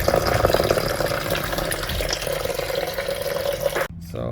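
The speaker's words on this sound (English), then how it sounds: "So we drain the coolant." Coolant drains from the engine of a 2011 Nissan Navara D40 with a YD25 diesel during head gasket work, a loud continuous splashing pour close by that cuts off abruptly near the end.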